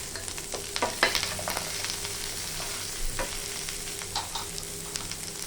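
Chopped tomato, onion and garlic fry in a pan with a steady crackling sizzle and scattered sharper pops, moderately loud, no one talking.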